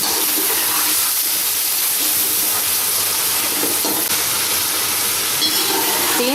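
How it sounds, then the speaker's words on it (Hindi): Beef browning in a pan with cumin and coriander powder, a steady broadband sizzle and hiss throughout with faint stirring scrapes, close and continuous, no talk. "तीन से 4 मिनट गोश्त को अच्छे से भून लें।"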